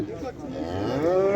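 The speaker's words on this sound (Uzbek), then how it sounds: "G'unojimi, ho'kizmi bu?" An ox at a livestock market gives one close, loud, drawn-out moo that rises and holds to the end.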